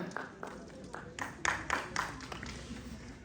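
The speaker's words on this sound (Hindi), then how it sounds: "जोरदार तालियां" Applause at a yoga conference at Uttarakhand Sanskrit University, a scattered burst of hand claps that builds and then thins out over a few seconds, moderately distant in a hall.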